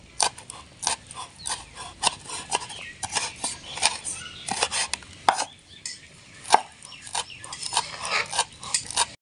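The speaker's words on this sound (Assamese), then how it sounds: "এইফালে মানে চাইনিজ ষ্টাইলত কাটি দিছোঁ" A knife chops red chillies Chinese style on a board: a steady run of crisp, close taps in an irregular rhythm with short pauses, no talking.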